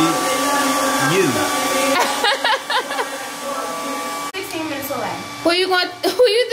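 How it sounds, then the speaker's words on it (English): A hair dryer blows steadily with a broad whooshing hum, while people talk and laugh over it nearby. "the blow dryer are loud as shit"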